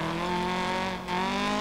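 Rally car engine from the DiRT Rally video game on a Greek stage at night, a steady high revving drone with layered engine harmonics, briefly dipping before climbing again, loud and close with no talking.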